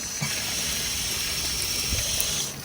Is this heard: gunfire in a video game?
no